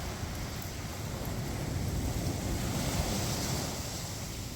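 Waves washing steadily onto Iceberg Beach in Iceland, a continuous broad rush of surf with wind buffeting the microphone, moderately loud and with no voices.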